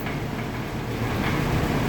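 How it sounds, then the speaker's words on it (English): A steady, loud rumbling vibration with rattling from a vintage Sears shop fan, its cabinet shaking on plastic rollers, constant throughout without pauses. "so that's that vibrating sound you're hearing because the cabinet's just shaking"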